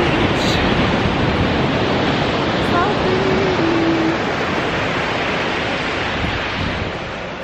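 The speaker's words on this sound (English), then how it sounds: "this is the beach." Steady broadband roar of beach waves and surf on a warm day, continuous and close, with wind buffeting the microphone and a brief faint chirp partway through.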